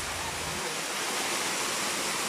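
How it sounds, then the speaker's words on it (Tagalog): A waterfall at Las Caidas resort, heard from up close on a raft, gives a loud, constant, full rushing roar of falling water that fills the whole clip. "Super up close with the falls."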